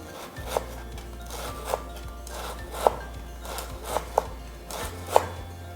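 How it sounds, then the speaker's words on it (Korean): A knife slices meat thinly on a cutting board in a Korean cooking exam kitchen, six distinct close chops spaced about a second apart over a low steady hum. "그리고 마지막으로 고기를 썰어 보겠습니다."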